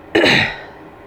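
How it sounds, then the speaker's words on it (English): A single sharp cough close to the microphone, quickly fading into quiet. "I'm sorry I keep coughing so much."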